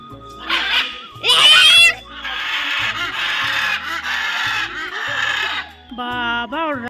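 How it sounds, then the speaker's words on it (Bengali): Loud, harsh squawking calls of a parrot at the Darjeeling zoo repeat in bursts, some shrill and piercing, with people talking nearby. "এক ধরনের টিয়া পাখি হবে"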